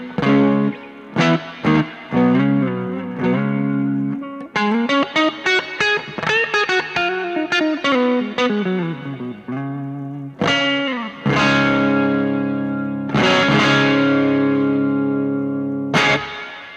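Electric guitar played through a Joyo Atmosphere pedal on its church reverb setting with the trails function on, with strummed chords and melodic runs ringing into long washy tails, loud and alone without speech.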